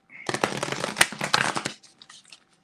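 A deck of oracle cards gets shuffled up close, a quick flurry of crisp riffling and slapping card sounds that tapers into a few softer shuffles.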